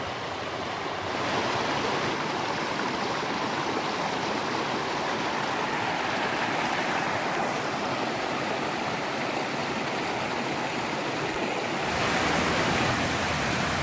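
Small mountain river, Middle Prong in Pisgah National Forest, North Carolina, rushing over rocks in a steady, broadband roar close by, constant and unbroken with no voices.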